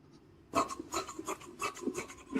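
A handsaw cuts through a marked piece of wood at 80 cm, a steady run of close, loud rasping strokes that starts abruptly after a brief quiet moment.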